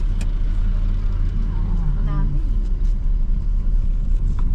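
Steady road traffic with many vehicles, a continuous low car-engine rumble and passing motor noise, with a voice talking over it.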